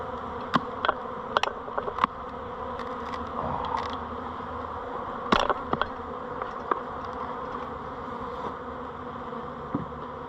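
Aggressive honey bees swarm around an opened hive during a nectar dearth, a steady close buzzing drone with scattered sharper clicks and bumps of handling equipment.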